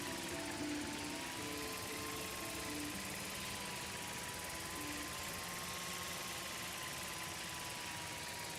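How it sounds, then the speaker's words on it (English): A drone flies around a campus, giving a continuous whirring rotor buzz with a slowly wavering pitch, steady and fairly close for the whole stretch, with no talk. "give the drone a whirl around campus"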